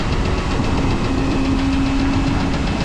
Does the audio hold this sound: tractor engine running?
yes